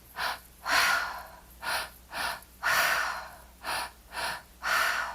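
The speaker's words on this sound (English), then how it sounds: "Letting the breath flow through" Deep, forceful breaths during guided breathwork, close and loud, in a steady rhythm of about nine inhales and exhales with short pauses between, with no talking.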